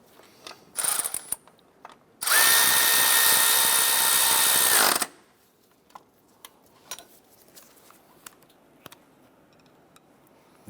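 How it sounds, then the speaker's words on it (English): Ratchet tightening the center bolt of an engine mount on a 2008–2012 Honda Accord gives a short burst of clicks, then about three seconds of loud continuous whirring, followed by scattered faint taps and handling noises. "Let's go ahead and tighten down that center bolt."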